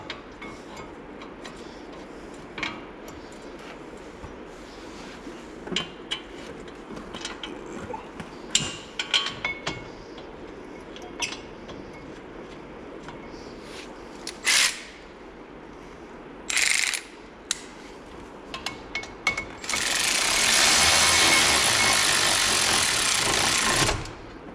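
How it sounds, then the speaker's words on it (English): Caliper bolts being threaded in and tightened on a 2015 Dodge Dart brake, with scattered ratchet clicks and metal handling sounds, then a longer steady burst of rapid ratcheting near the end. "get these caliper bolts threaded in"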